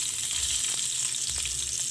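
Garlic and onion sauté in hot oil in a pan for chicken halang-halang, a dense, steady sizzling hiss heard up close with faint bubbling crackles and no talking.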